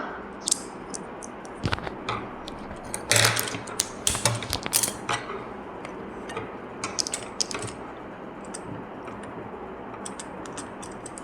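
Sewing machine stitching a blouse with its lining cloth, giving a steady mechanical whir with quick clicking ratchet-like bursts and a few louder knocks early on, close and without talk.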